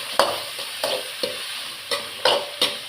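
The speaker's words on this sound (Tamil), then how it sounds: "வதக்கிக்கிறேன்." Sautéing in oil left over from frying cauliflower, with a steady close sizzle cut by about seven rhythmic scrapes of a spoon stirring the pan, no talking.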